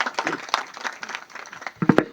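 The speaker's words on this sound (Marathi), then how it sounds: "खरंच टाळ्या वाजवा" An audience at a Marathi devotional kirtan discourse claps in a short, uneven burst of applause, moderately loud and close, with a few sharper slaps near the end and faint voices mixed in.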